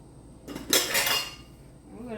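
Spice mix tipped into a bowl makes a short clatter of dry grains hitting the bowl, close and fairly loud, with a bit of scraping as it settles.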